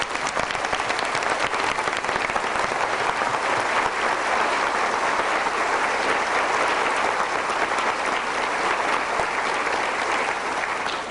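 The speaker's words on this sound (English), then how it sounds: "Please join me in applauding these magnificent drill instructors." A large audience at a US Marine Corps recruit graduation at Parris Island applauds the drill instructors continuously, a dense wash of many hands clapping at steady volume with no pauses for the whole stretch.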